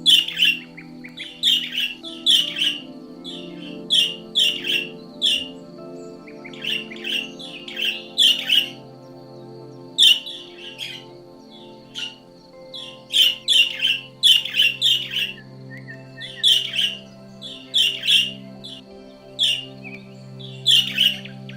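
Wild bird calling, with rapid clusters of sharp, high chirps repeating throughout, fairly close and clear against a quiet background.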